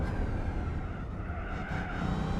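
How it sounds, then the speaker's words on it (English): Modded car engine sound from the Gran Turismo 4 video game, a steady loud drone of engine and road noise held without a break, with no talking. "Some engine sounds are modded in this game."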